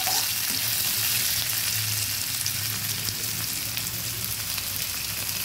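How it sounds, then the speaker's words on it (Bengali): Two medium onions sizzle steadily in a hot pan as they are stirred, a continuous close frying hiss with no voices. "পেঁয়াজটা ভালোভাবে নেড়ে দিচ্ছি।"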